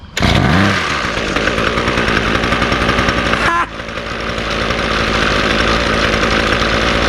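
A Ryobi 2-cycle weed eater engine idles steadily and loudly right after a new carburetor install, its continuous buzzing drone briefly dipping about halfway through before settling back to an even idle.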